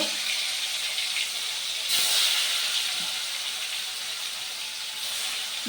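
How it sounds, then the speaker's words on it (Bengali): Paneer pieces half-fry in a pan of oil, giving a soft, steady hissing sizzle that swells slightly around the middle, close but fairly quiet, with no talking. "তো এখন পনিরগুলিকে ফ্রাই করে নেব।"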